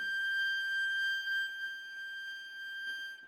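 A hurdy-gurdy holds its very top note for a few seconds, a single high, steady drone, thin and buzzing with bright overtones, fairly quiet and unwavering.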